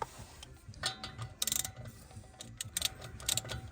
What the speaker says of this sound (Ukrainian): Сюди болт укручується